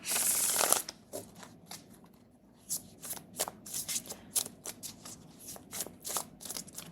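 Tarot cards shuffled by hand for a pick-a-card reading: a dense, close riffle burst, then a run of short, crisp flicks and slides at an uneven rhythm, with no voices.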